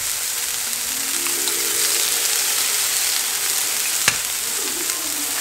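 Eggs frying in a pan with chorizo give a steady, close hiss of sizzling that holds evenly throughout, broken by one sharp tap near the end.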